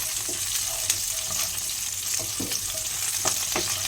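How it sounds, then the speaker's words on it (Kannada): Fresh curry leaves fry in a pan with garlic, a steady close sizzle broken by several sharp crackles and stirring scrapes, with no one talking. "ಮತ್ತು ಇಲ್ಲಿ ನಾನು ಫ್ರೆಶ್ ಆಗಿರ್ತಕ್ಕಂಥ ಕರಿಬೇವನ್ನು ಸೇರಿಸ್ಕೊತಾ ಇದ್ದೀನಿ ಇದನ್ನು ನಾವು ಇವಾಗ ಚೆನ್ನಾಗಿ ಫ್ರೈ ಮಾಡ್ಕೋಣ"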